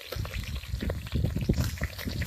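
Roast chicken sizzles hot over a campfire while wild camping in Scotland, a close, dense crackling fizz throughout the short burst with no talk.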